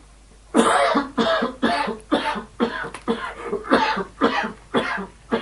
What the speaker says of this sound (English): I can hear someone coughing.